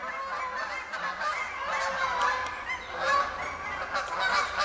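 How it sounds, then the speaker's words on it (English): A flock of wild geese passes overhead, honking over and over in an irregular chorus of overlapping calls, fairly loud and clear in open parkland air. "wild geese flying over."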